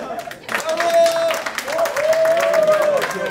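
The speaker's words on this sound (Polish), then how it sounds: "Super, wielkie brawa!" Guests clap at a wedding celebration, a loose burst of applause with a sustained whistle-like tone running through it and voices mixed in.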